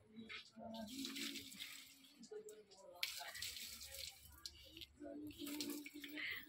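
Water from a bucket splashes onto tulsi plants in an outdoor courtyard, faint and uneven, with several separate pours and spatters. A voice speaks softly underneath.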